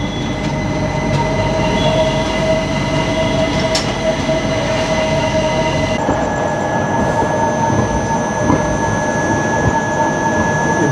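The Veerbhoomi Chittorgarh Express rolls out of Ratlam Junction, a loud, continuous rumble of wheels and carriages heard from on board, with sustained high metallic tones and squeals running throughout and no talking.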